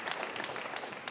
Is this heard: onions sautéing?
no